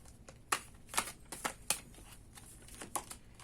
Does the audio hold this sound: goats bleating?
no